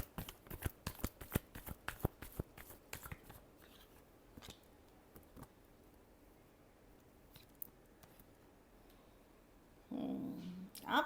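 Tarot cards get shuffled by hand in a quiet room, with a rapid burst of crisp riffling flicks at first, then sparse soft card slides and taps, and a brief louder rustle near the end.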